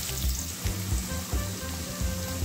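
Potatoes sizzling in hot mustard oil in a pan, a continuous crackling fry with soft, rhythmic low bumps as the pieces settle and shift, close and steady with no talking.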